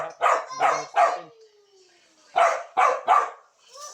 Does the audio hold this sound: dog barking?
yes